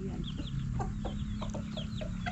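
Chickens cluck and chirp in short, scattered bursts against a steady low hum, with no voices present.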